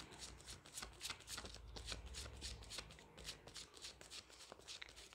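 A deck of tarot cards being shuffled by hand at close range, a steady run of soft, rapid riffling flutters, fairly quiet and continuous with no speech.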